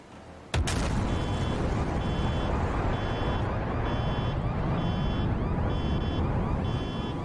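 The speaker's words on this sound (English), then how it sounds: "my car alarm and everybody else's just went off" An F-14 Tomcat flies past at an air show demonstration. A sudden blast breaks into a loud, sustained jet roar, and car alarms set off by the pass chirp in a regular repeating pattern above it.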